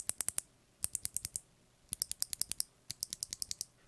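Clicky BOX Jade keyboard switches are pressed in quick bursts of sharp, crisp clicks, close and distinct, in several rapid runs with short pauses between, with no talking.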